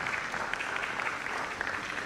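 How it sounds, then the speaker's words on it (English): An audience at an environmental sciences conference gives a steady round of applause, continuous dense clapping across the hall with no speech over it. "Please, a round of applause."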